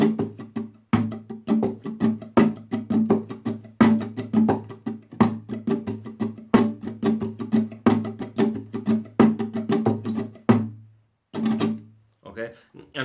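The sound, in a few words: flamenco rumba guitar strumming pattern with golpe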